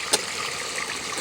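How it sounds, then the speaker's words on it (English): Water trickles slowly into a backyard koi pond system, a soft continuous burble with one brief splashy spike near the start, close and moderately loud, with no talking. "I'm topping up the water in the pond system slowly."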